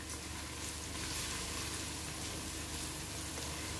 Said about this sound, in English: I have here minced garlic, and I'm going to toss that in.